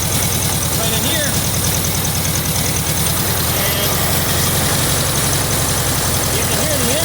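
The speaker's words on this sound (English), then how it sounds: "you can hear the engine" A car engine idles with a steady, close, continuous rumble and hiss throughout, with a voice speaking over it.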